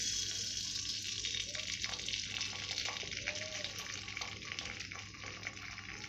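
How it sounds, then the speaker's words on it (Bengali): An egg seasoned with turmeric and salt fries in a pan, giving a steady, close sizzle with faint crackles that runs unbroken throughout. "আমি ডিমটাকে ভেজে নেব।"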